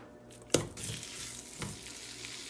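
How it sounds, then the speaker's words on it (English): Chicken pieces sizzle steadily in a hot pan, with a sharp clatter as pieces drop in and a second soft scrape partway through. "I kind of like pan frying it a little bit"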